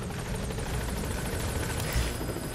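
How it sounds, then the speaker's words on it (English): Video game helicopter arriving at a landing zone for pickup, a steady close rotor thrum with dense low-frequency chopping that holds loud and even throughout. "Helicopter pickup."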